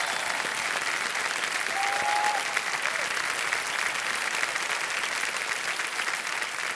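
A studio audience on the KBC quiz show claps steadily and densely for the whole stretch, a sustained wash of applause at moderate loudness with no voices standing out.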